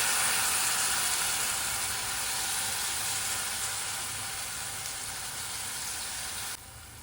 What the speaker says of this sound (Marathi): तर यामध्ये कापून घेतलेलं करटोले टाकून घ्यायचे